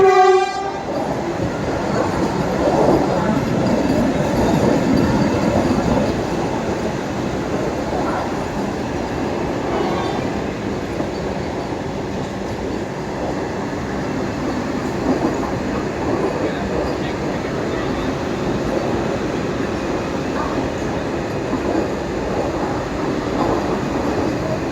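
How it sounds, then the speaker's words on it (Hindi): The Vande Bharat Express passes through Kopargaon railway station: a loud, continuous rumble of rolling wheels and carriages, with a horn blast at the start and rhythmic clatter throughout. "तो ये आपके सामने वंदे भारत एक्सप्रेस, साईनगर शिरडी फ्रॉम मुंबई।"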